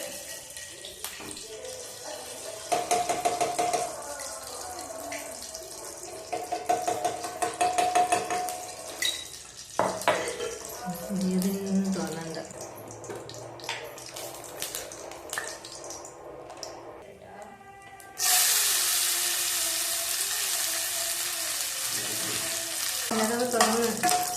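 Cooked vermicelli and sago fry in hot ghee in a pan for Onam payasam, giving a steady close sizzle with stirring and clattering, then a louder, sustained hiss over the final stretch.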